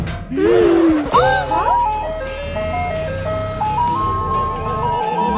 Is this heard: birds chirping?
no